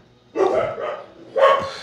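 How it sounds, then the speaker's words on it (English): Dogs give two short, sharp barks close by indoors, separated by a brief pause, with no talking around them. "the dogs are going to wake Danny up"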